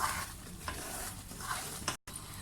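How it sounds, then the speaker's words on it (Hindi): Semolina and gram flour roasting in a pan for halwa, a soft dry sizzle with scraping spoon strokes at irregular intervals, brief gap near the end, no talking. "सूजी डाल के हम इसको अब अच्छी तरह से खुशबू आने तक भून लेंगे।"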